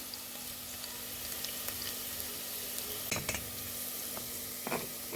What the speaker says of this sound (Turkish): Biberlerimi de soğanımla, yağımla biraz kavuracağım.